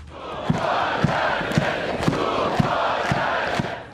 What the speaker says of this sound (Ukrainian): Аплодисменти, крики і фанфари